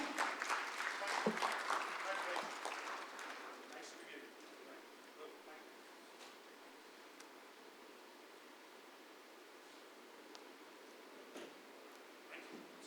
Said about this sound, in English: Everyone, please put your hands together once again.